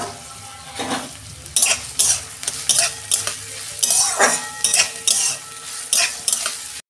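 Onions and green chillies fry in hot oil for ghugni, a loud steady sizzle broken by repeated scraping stirs of a spoon in the pan, with no voices.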